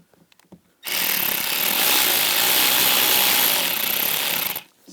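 A power tool runs steadily for about four seconds, driving screws into the heater cover of a 2010–2017 Chevrolet Equinox, loud and close, starting abruptly and stopping with a brief tail.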